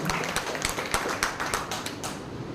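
Applause from an audience at a local political mandal meeting in Penugonda, a steady wash of many hands clapping with scattered sharper claps, moderately loud and continuous with no speech on top.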